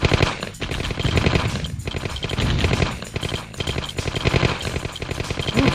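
Minigunner gunfire from Command & Conquer 64 rattles in continuous rapid bursts, a dense machine-gun chatter with brief gaps, loud and steady throughout with no speech.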